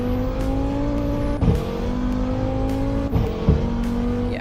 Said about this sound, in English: This engine is not loud at all, and it revs in such a slow way